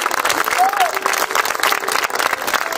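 Audience applause breaks out after a poem recital at an Atatürk and Republic poetry gathering in Hatay: a steady, dense wash of clapping that fills the whole stretch at fairly loud level.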